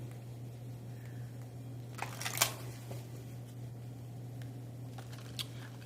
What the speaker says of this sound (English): I got to get used to shuffling in front of the camera, y'all.